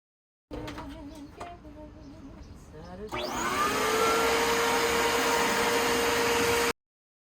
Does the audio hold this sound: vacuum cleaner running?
yes